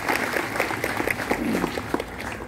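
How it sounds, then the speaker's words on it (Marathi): Audience at a motivational lecture in Chopda claps together in a dense, steady burst of applause, with a murmur of voices mixed into it. "पोरं भारी टाळ्या वाजवतात बरं का"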